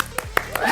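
A few hands clapping at a live daytime show, three or four sharp separate claps spaced apart, close, with voices murmuring around them.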